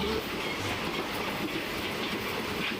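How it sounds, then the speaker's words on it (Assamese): A passenger train running at night from Lakhimpur toward Rangiya rumbles and rattles steadily, heard from inside the carriage with continuous rolling noise and faint clickety-clack. "এতিয়া ট্ৰেইনত যাত্ৰা আৰম্ভ কৰিব লৈছোঁ লখিমপুৰৰ পৰা ৰঙিয়া অভিমুখে"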